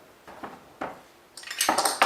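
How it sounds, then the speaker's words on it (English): Blender blades and a washer clink and clatter onto a blender jar, a few soft knocks followed by a brighter rattle of metal against glass close up. "So now I'll put the blender blades on top."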